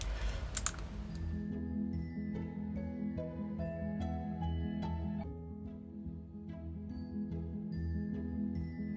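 Plastic packaging around a silicone mould sheet with pennant shapes being opened, a steady run of crinkling and rustling taps close by, continuous for several seconds with no voices.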